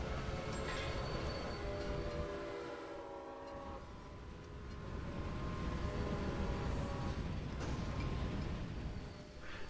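Trains arrive in the railway management video game Railway Empire: rumbling rail noise with repeated horn and whistle tones, rising and fading over about ten seconds, moderately quiet with no voices.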